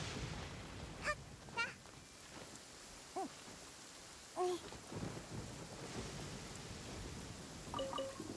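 Steady hiss of rain and distant thunder in the video game Genshin Impact, with a few honking bird calls cutting through in short bursts over the constant downpour.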